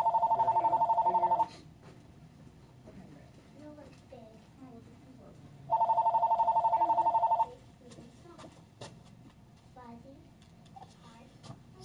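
A telephone rings in a game store with two loud electronic ring bursts a few seconds apart, while people talk and mumble in the background between the rings.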